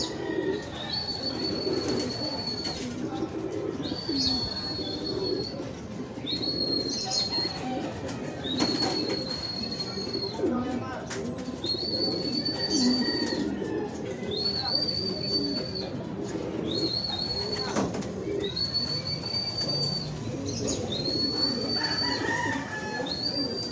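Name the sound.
racing pigeons flying and landing, flapping and cooing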